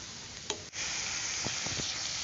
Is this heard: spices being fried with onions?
yes